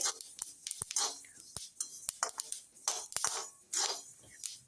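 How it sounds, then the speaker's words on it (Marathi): Flaxseeds crackling in a hot pan after roasting with the gas turned off, sounding as a close, quiet series of sharp irregular pops and ticks with brief hissy bursts between them. "गॅस बंद केलाय तरी आपल्या आळशीचा आवाज येतोच आहे बरं का."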